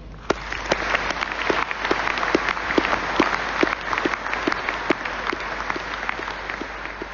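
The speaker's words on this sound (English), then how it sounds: "So a big applause and a big thank you to our common teams who worked so far." Audience applause at a speech event on the U212CD submarine program, a steady dense clapping of many hands filling the whole stretch at moderate level, without speech.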